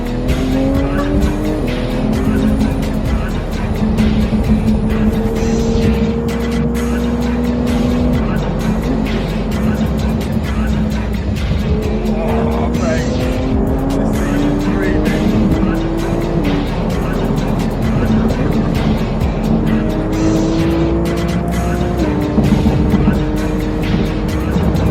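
A Toyota MK2 with a 1.5JZ engine is driven hard, its engine roaring loudly and continuously through rising and falling revs while the tires squeal in long, repeated screeches.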